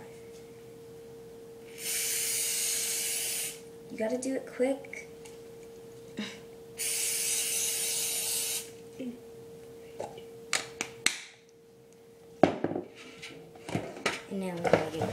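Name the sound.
spraying cooking spray onto cookie sheet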